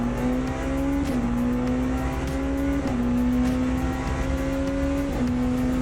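Racing cars in Le Mans Ultimate at the Bahrain circuit drone loudly and continuously, engine pitch climbing steadily then dropping sharply at each gear shift, with another car's whine mixing in close by.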